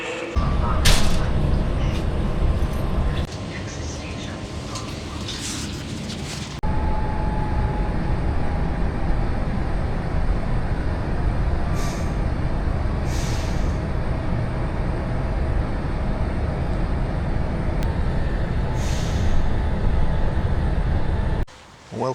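A train pulls into a station in Poland and runs at length as a loud, steady rumble of wheels and engine, with a brief shift in tone partway through and faint sounds of the platform around it.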